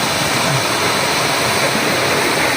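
A strong spring gushes water in a steady, loud, close roar of rushing flow, continuous and unbroken with no pauses.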